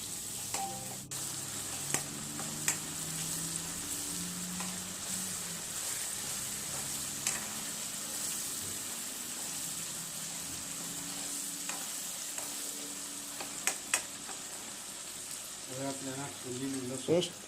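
Ginger-chili paste stirred into onions frying in a pan for a Mehsana-style dungadiyu, with a steady sizzle and intermittent scraping of the spoon; low background voices drift underneath.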